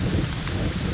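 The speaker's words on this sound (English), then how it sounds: "it's raining." Heavy rain with a rumble of thunder in the survival video game Green Hell, a loud, continuous wash of downpour over a deep low roll that fills the whole moment.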